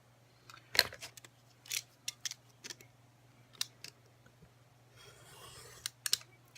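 Scissors snip paper while a DIY box envelope is being made, giving several sharp, close cuts at an uneven pace with short quiet gaps between them and a low steady hum underneath.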